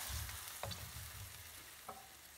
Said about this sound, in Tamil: இப்போ இந்த மசாலாவை இதில் ஊற்றிடுறோம்.